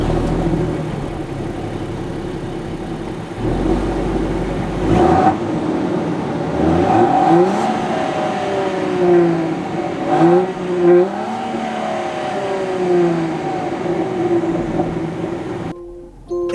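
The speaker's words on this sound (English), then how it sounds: "it's got a pretty good engine start sound to it" A Land Rover Defender 130 with an inline six-cylinder engine cranks and fires, then settles into a loud, rising and falling idle with a few revs, heard close up with no talking.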